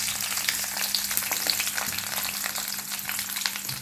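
Chopped onion sizzles in hot oil in a pan with a bay leaf, a steady close crackling fry with occasional sharper pops and faint stirring scrapes, no voices.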